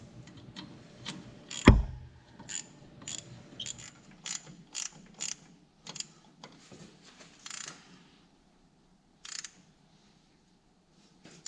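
Ratchet clicks come from tightening the caliper-to-bracket bolts on a 1998-2002 Ford Crown Victoria front brake job. They arrive in close, irregular bursts after one sharp metallic knock, then fade into near silence with a final short burst.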